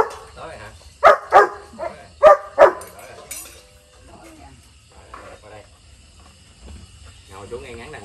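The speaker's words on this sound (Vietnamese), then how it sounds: "Giờ cho chó ăn nè." Dogs at feeding time at a rural Vietnamese home: several sharp, close barks in two quick pairs, followed by quieter scuffling and background chatter as people talk nearby.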